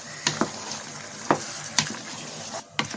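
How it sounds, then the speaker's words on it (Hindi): Mutton with tomato paste and yogurt frying on high flame, a loud steady sizzle broken by sharp spatula scrapes and knocks at irregular intervals, close up with no one talking. "हाई फ्लेम पर मैं उसको भून रही हूँ"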